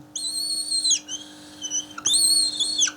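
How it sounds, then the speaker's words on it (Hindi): A pen squeaks like a whistle while writing in a chemistry lesson, with two long high-pitched squeals, each sliding down at the end, separated by a brief softer squeak. "पेन सीटियाँ मारता है"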